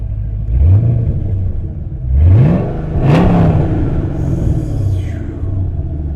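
A 2015 Chevrolet Camaro Z28 V8 engine revs up sharply three times, each rising roar falling back to a deep rumbling idle between blips, loud and close.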